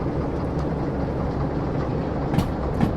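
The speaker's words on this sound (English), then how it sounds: "When you've picked up some speed, release the throttle completely, the train will continue to coast." Train coasting along the rails in the Derail Valley simulator with the throttle off, a steady rolling rumble and faint rhythmic clatter holding level throughout, with a couple of brief sharper clicks near the end.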